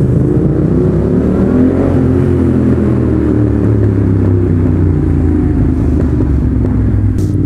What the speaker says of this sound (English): Oh my God, this bike is loud.